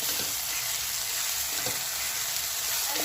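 Crushed tomatoes fry with ginger and garlic in a hot pan, giving a steady, close, loud sizzle with faint stirring scrapes throughout and no talking.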